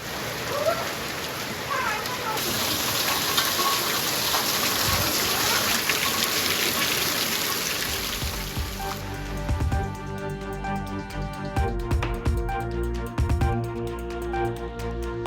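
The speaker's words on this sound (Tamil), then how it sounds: "திடீரென பெய்த மழையால் மக்கள் உற்சாகம்" A sudden hailstorm with rain during summer heat around Kadathur. Dense, heavy hissing pours steadily for about nine seconds, then gives way to quieter, broken sounds with voices.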